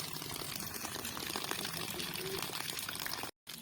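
Water pours from a newly installed tap in a steady, close, rushing splash, broken by a brief cutout near the end.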